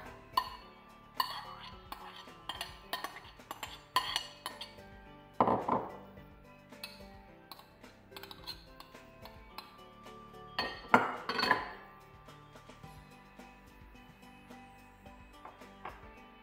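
Minced meat being mixed in a bowl with chopped onion, tomato paste, basil, paprika and salt, with scattered clinks and knocks of a utensil against dishes, clustering into busier bursts, fairly quiet.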